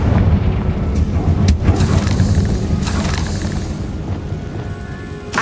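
The Confringo explosion spell in the Hogwarts Legacy video game: loud, rumbling booms and bursts in quick succession over a continuous low roar, with no speech.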